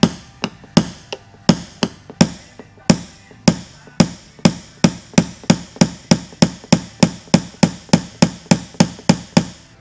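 Paintless dent removal tool tapping down a dent on the body panel of a Mini John Cooper Works, a close, loud series of sharp metallic taps, irregular at first, then settling into a fast, steady rhythm.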